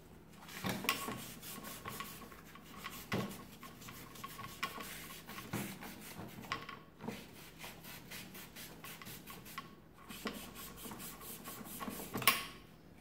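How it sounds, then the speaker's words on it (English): A greasy part from a Marchant XL mechanical calculator is wiped clean by hand, giving soft repeated rubbing and scrubbing strokes with a few light knocks and clicks, close and fairly quiet, with no talking. "You can see all the grease that comes off."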